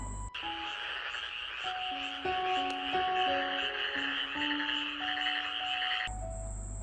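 Frog croaking as a story sound effect, a series of tonal croaks and chirps over a steady insect-like buzzing bed, fairly faint and alone with no talk.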